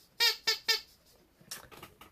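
An old rubber bird squeak toy from a yard sale gives three sharp, loud squeaks in quick rhythm, followed by a few softer, airier squeezes up close.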